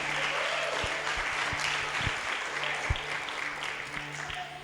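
Church congregation applauding, a steady wash of clapping with a few heavy low thumps and a faint sustained tone beneath, continuous throughout.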